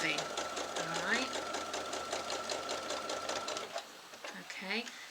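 A sewing machine runs steadily, stitching alongside a quilting ruler with a continuous rapid mechanical whirr, while someone talks over it and the motor eases off near the end.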